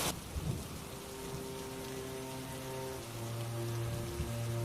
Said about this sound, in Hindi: तुरंत आसमान में बादल घिर आते हैं और तेज मूसलाधार बारिश होने लगती है